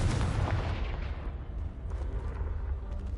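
A Confringo fire spell blasts a pile of debris blocking a stairwell in the Hogwarts Legacy video game, one loud booming explosion with a heavy low rumble that rolls and fades over a few seconds.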